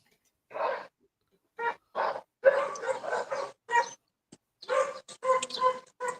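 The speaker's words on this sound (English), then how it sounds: "Now, dog is barking." Stray dogs in Mexico barking in short, repeated bursts, fairly close and clear against a quiet background, a few yips between the volleys.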